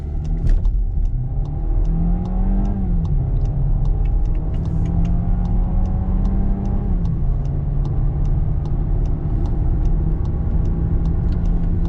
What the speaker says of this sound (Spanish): Aceleramos un poquito y vámonos.